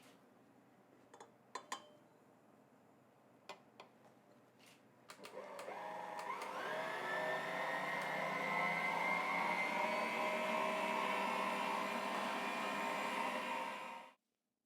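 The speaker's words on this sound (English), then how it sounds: "pop the egg whites sugar together in a bowl and leave them to whisk up until they're nice and thick." An electric mixer whisks egg whites and sugar in a bowl, starting after a few light clinks and then running as a steady, loud mechanical whir that stops abruptly at the end; no speech.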